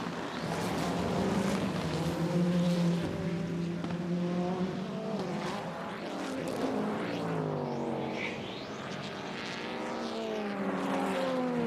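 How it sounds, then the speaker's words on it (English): Race car engines roar trackside at the 2016 Petit Le Mans endurance race, several cars passing with rising and falling revs, loud and continuous throughout. "The sound of racing engines from trackside"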